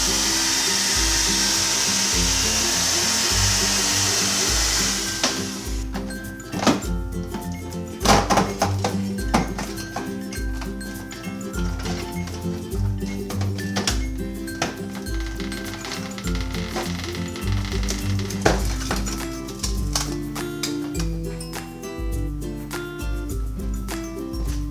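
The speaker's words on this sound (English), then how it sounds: "More blow dryer action." A blow dryer hisses briefly while heating a plastic plate on a Samsung RS267 refrigerator, then stops, followed by a long stretch of tonal music with occasional clicks and knocks.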